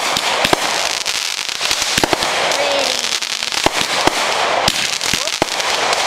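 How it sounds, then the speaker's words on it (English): Fireworks at a July 4th show pop and crackle repeatedly in sharp, irregular bursts, fairly close and loud, with people chatting in between. "Firework. Well, there it goes."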